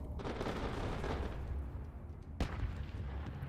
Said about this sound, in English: Now he's taking fire from Rogue from the rear.